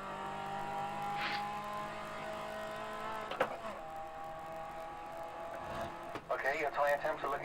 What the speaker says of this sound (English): I only get engine sound every once in a while.